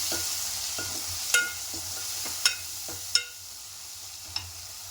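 Steady hiss of chili powder and spices frying in a pan with a few sharp scrapes and clinks of a spoon stirring, spaced irregularly, no voices.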